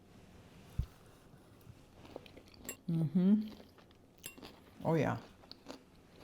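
A person eats crunchy broccoli salad with sunflower seeds and cranberries, with a few close, distinct crunching bites between quiet pauses, and a brief spoken remark mixed in.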